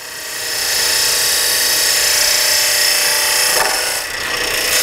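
A wood lathe spins as a bevel-edged gouge turns a tailstock handle extension, giving a steady, loud, hissing cut that runs almost unbroken, with a short dip near the end.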